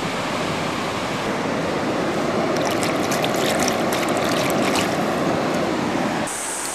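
Colorado River rushing at the bottom of the Grand Canyon, a steady, loud broadband roar of flowing water with no voices, ending in a brief shift in tone.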